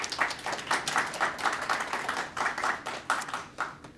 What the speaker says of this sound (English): a round of applause for Susan